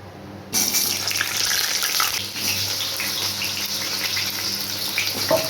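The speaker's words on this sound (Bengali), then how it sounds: "সর্ষের তেলটা গরম হলে আমি প্রথমে আলুগুলোকে ভেজে নেব" Potatoes drop into hot mustard oil in a wok and start a sudden, loud, continuous sizzle. The broad hiss stays close and steady with no talking.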